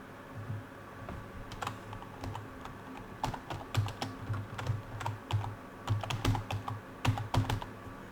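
Typing on a computer keyboard, a steady run of close, crisp key clicks in uneven bursts with short pauses, heard alone with no voices.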